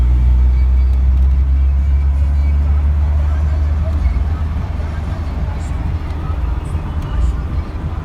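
A 1990 Tofaş Şahin's engine idles close by with a deep, steady low rumble that holds throughout, with faint background noise.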